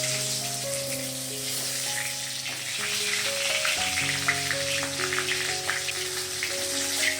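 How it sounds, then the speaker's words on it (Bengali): A fish head piece fries in hot oil for a moong dal dish, a steady close sizzle and crackle with a faint tonal hum underneath, with no speech. "মাছের এই অর্ধেক পিসটা ভাজা হয়ে গিয়েছে"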